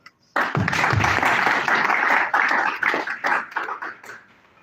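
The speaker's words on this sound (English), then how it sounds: "I'd like to set a round of applause in honour of the veterans." Audience applause honouring veterans at a ceremony with the UK High Commissioner in western Kenya, a crowd clapping loudly and steadily before thinning into scattered claps and fading out.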